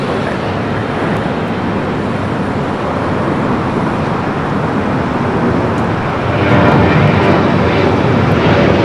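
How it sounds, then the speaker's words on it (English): ANA Boeing Dreamliner on arrival at Los Angeles International from Tokyo Narita, passing on the north side: a loud, continuous jet roar mixed with distant traffic rumble, rising noticeably in its last seconds, with no talking. "ANA up next for arrival. It's flight 6 coming from Tokyo Narita."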